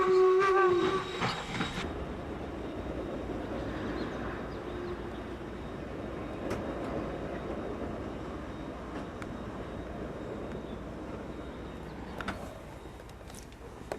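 A Strasburg Rail Road train with its locomotive, opening with a brief high whistle-like tone before settling into a steady, close rolling rumble of the moving cars that runs on alone without speech.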